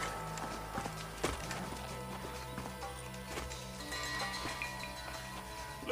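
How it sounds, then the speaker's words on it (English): A horse in the Western video game Red Dead Redemption on PS3 walks with a steady clip-clop of hooves, fairly quiet and even, over faint game ambience and no talk. "Yeah, we're gonna get lost here because our horse just keeps walking."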